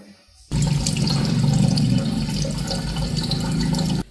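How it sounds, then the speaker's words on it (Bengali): Tap water runs into a sink as someone washes their face, the gushing starting abruptly after a short quiet moment and then continuing loud and steady, with splashing. "এবার আমি মুখটা ভালো করে ধুয়ে নেবো রাব করে করে রাব করে"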